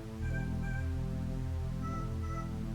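A cat meowing in a video game, drawn-out tonal meows repeating over a droning, harmonically rich background of game music or ambience, fairly loud and continuous.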